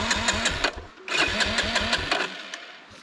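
Dirt bike engine on a trail near silted creeks, revving in rough bursts with a pulsing low throb that drops out briefly, then surges again and fades toward idle.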